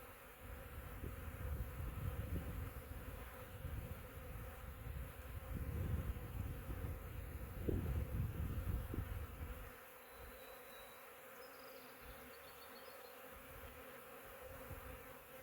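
A swarm of honey bees clustered in a ball hums and buzzes faintly and continuously, swelling louder for several seconds before easing to a softer drone.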